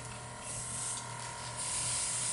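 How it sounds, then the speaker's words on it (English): An airbrush sprays white paint in a continuous close hiss with a faint mechanical hum underneath, steady throughout with no talking. "Turn on my airbrush."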